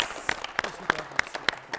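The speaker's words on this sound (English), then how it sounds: "you deserve another round of applause." Claps land in a steady, evenly spaced rhythm, about six sharp strikes roughly every third of a second, as a quiz show audience applauds a team in unison.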